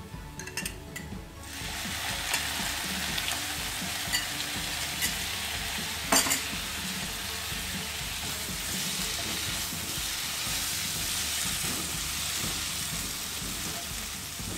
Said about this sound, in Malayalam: ഇനി നമുക്കിതിലേക്ക് 2 ടേബിൾ സ്പൂൺ വെള്ളം ഒഴിച്ച് കൊടുക്കാം.